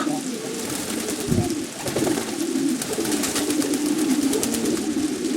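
A red Modena pigeon coos steadily in low, soft rolling tones, with faint rustling and light background noise throughout; no talking is heard.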